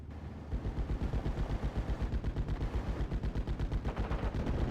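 A Flak 88 anti-aircraft gun fires at Mustangs in a video game, a loud, steady stream of rapid, evenly spaced booming shots that runs throughout with no voices.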